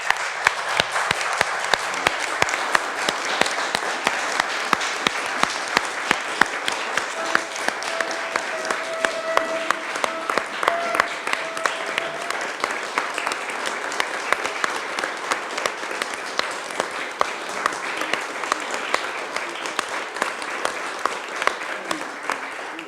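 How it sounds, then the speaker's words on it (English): Sustained applause from the audience at an annual general meeting, dense steady clapping from many hands lasting the full stretch, filling the room without pause. "So I really want to give them a big round of applause."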